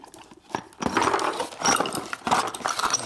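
A ratchet wrench turns a 36 mm socket on a 2004 Harley-Davidson FLHT Twin Cam touring transmission, giving several close bursts of rapid metallic clicking separated by brief pauses.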